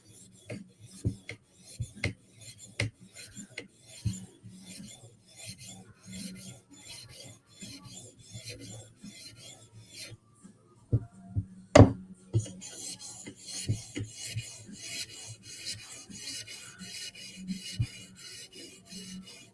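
Knife steel rasping back and forth across a lower-grit sharpening stone in steady, close strokes, with a brief louder scrape partway through and no talking.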